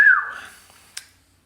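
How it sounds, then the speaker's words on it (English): A person whistles a single short, loud note that slides downward and fades, followed by a brief faint click. "I whistled, and then she got excited"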